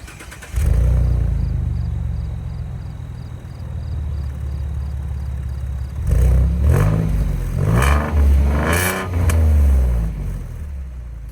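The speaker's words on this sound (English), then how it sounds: "Honestly, this V6 doesn't sound all that good. I'll play a clip for you now." A 2016 Ford Mustang V6 with dual exhaust tips starts and settles into a steady idle, then blips through three sharp revs that rise and fall in pitch, loud and close with no talking.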